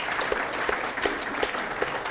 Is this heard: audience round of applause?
yes